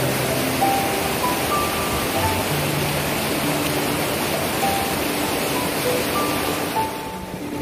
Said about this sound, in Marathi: सुंदर असा नजारा, मस्त वाहत पाणी.